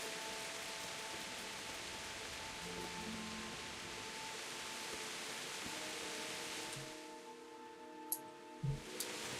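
Continuous rainfall in Kingdom Come: Deliverance, a broad even hiss over faint tonal ambience, thinning near the end where a couple of soft knocks sound.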